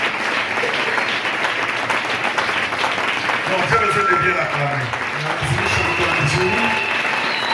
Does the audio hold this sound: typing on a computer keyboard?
no